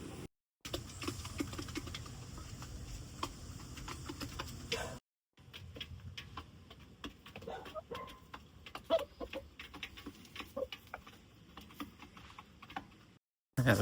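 A rooster in rural Jamaica gives a few clucks amid soft outdoor background noise, fairly quiet and broken by brief gaps.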